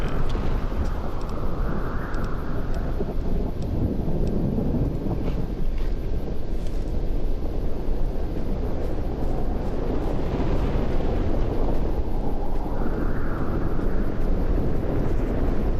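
Wind rushing steadily while sailing in the Fallout: New Vegas game, a dense continuous roar with slow swells in strength, loud and unbroken with no talk.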